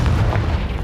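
Confringo blasting spell from Hogwarts Legacy on Nintendo Switch, going off as a short, dense low boom that rumbles and fades quickly, loud and close.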